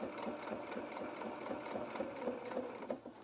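Sewing machine stitching around a small elastic doll shoe, a continuous close mechanical hum with a fast, even needle rhythm throughout.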